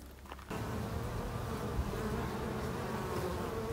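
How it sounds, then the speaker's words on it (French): Buckfast honey bees swarm over a European hornet, a dense, steady buzzing hum that swells loudly after a brief quieter start and holds close and continuous throughout. "nous pouvons toujours voir le tas d'abeilles qui est sur le frelon, qui ne le lâche pas"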